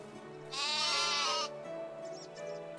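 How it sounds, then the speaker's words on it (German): A sheep in the video game Medieval Dynasty gives one clear, wavering bleat lasting about a second, close and loud, followed by fainter farm sounds. "Das sind bestimmt nur die Schafe"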